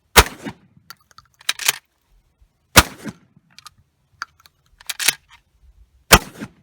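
Benelli SBE3 semi-automatic shotgun firing soft low-power BP shells outdoors: six sharp, loud shots in uneven pairs and singles, with small clicks and clatter of the action between them.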